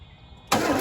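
A 1977 Chevy Nova engine, freshly fitted with cleaned-up battery terminals, cranks over: near-silence abruptly gives way to a loud, steady starter churn that fills the second half.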